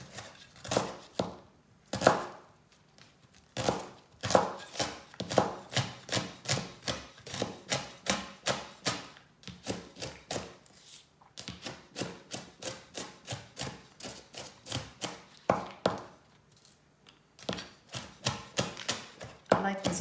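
Knife rough-chopping green onions on a cutting board, a long run of quick, crisp, evenly spaced chops with a few short pauses, close and fairly loud, with no talking.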